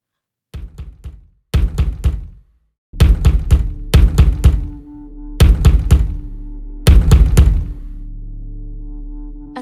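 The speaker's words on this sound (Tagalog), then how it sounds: "Kumakatok siya." Someone knocks on a house door from outside, loud hollow raps in six separate bursts of several quick blows each, with silent pauses between the bursts and a lingering low hum toward the end.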